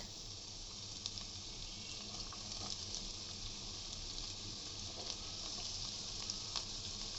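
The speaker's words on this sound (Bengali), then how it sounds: "তেলটা অনেক গরম হয়ে গেছে। এখন আমি দিয়ে দিব বেশি করে পেঁয়াজ।" Onions tipped into very hot mustard oil for a chicken-liver bhuna give a steady, dense sizzle that holds evenly throughout with small crackles, close and alone without talk.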